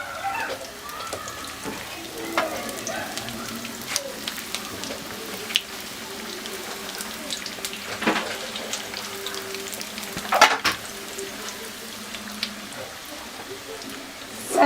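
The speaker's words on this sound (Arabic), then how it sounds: "هما دابا البريوات درتهم كيتقلاو." Moroccan cheese-filled briouats fry in hot oil with a steady soft sizzle and scattered pops and crackles, close up and continuous with occasional sharper bursts.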